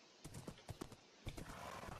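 Horse in a modded Minecraft game, with a string of short hoof clip-clops and soft snorting sounds spread across the moment, fairly faint.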